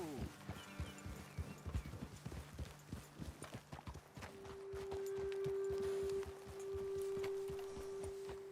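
In the Red Dead Redemption 2 video game, horses' hooves clip-clop in quick, uneven beats close by, then slow and thin out. A sustained musical tone rises in the background partway through.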